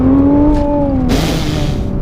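A 570-horsepower Nissan GT-R with all-wheel drive accelerating hard, its loud engine note climbing in pitch before breaking into a broad surging roar, close and dominant.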